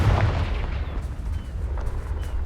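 A fire-type spell explosion in Hogwarts Legacy sets off a deep, rumbling boom that rolls on as a sustained low roar with scattered crackles, loud and close, with no talk.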